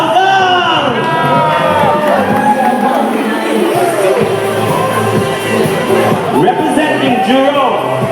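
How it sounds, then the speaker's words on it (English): Crowd cheering and shouting at the Mister Singapore 2013 pageant swimwear round, a loud continuous roar of many overlapping voices with whoops throughout and no clear clapping. "Let's give a big round of applause to Haldong!"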